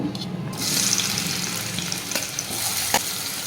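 Sliced onion goes into hot oil with ginger-garlic paste for a mushroom curry, making a steady loud sizzle that swells just after the start and carries on throughout, with a couple of faint clinks.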